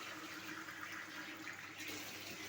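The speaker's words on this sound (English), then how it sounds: "so at this point I just add some water, 2 glasses of water." Water is poured from a glass into a cooking pot in a kitchen, producing a steady, close rushing and splashing pour that runs continuously throughout, with no talking.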